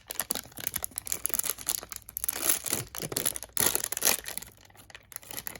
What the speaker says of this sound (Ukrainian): Давайте розпаковувати наші фігурки. У нас тут іде пакетик.